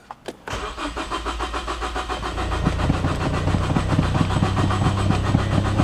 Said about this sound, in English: Car still doesn't want to start.